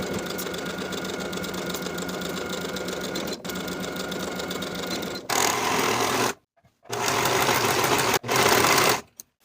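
A sewing machine stitches the shoulder and side seams of a shirt, a fast, rattling mechanical whir that runs continuously, then stops and restarts in two short bursts separated by brief silences.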